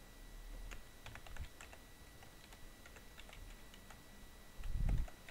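Computer keyboard typing during a Roblox hide-and-seek game, quiet scattered clicks in short irregular bursts with a couple of soft thumps, close and faint, no talk.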